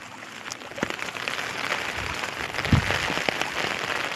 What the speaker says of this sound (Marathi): पण 3 दिवस झाले कंप्लीट सारखा पाऊस चाललेला आहे